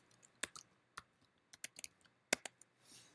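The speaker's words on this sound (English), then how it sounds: "I need to type my root password." Keys clicking on a computer keyboard as a password is typed, sparse sharp taps in small irregular clusters, close and fairly quiet, with a soft rustle at the end.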